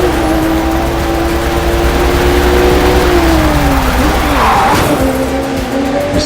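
Race car engine in The Crew 2 during a nighttime street race, a loud steady droning engine tone that shifts pitch, with tires skidding and squealing near the end.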